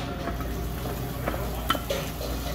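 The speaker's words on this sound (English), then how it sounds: "And then you're going to add the minced shallots." Minced shallots sauté in butter in a small sauté pan, with a steady low sizzle and a couple of light utensil clicks, close and without talk.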